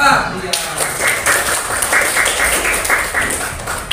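A classroom of students claps for a group that has just presented, a steady dense burst of applause running the whole time alongside voices.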